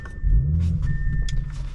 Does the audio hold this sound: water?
no